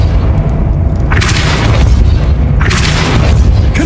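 Confringo fire spells explode in Hogwarts Legacy, two loud, booming blasts with rumbling low end over continuous game noise.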